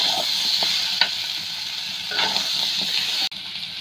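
Chicken curry pieces sizzle steadily in a pan for a spicy chicken fry, a close, dense crackle broken by occasional clacks of stirring.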